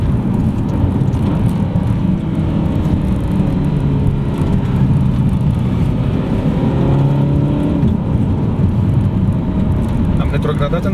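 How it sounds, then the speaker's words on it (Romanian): Steady tyre roar from a Ferrari California T rolling over a concrete road surface, a dense, constant rumble heard from inside the car throughout, with a voice speaking over it. "zgomotul pe care l-aud acum de la drum este cauzat în primul rând de beton"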